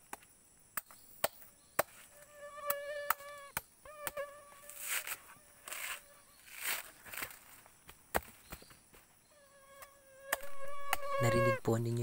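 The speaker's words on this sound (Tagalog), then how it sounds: "Narinig po ninyo yung tunog ng lamok?" A mosquito's thin, high whine drifts in and out close by, rising and fading several times amid sharp chopping knocks and rustling.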